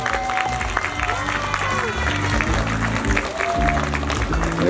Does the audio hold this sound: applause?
yes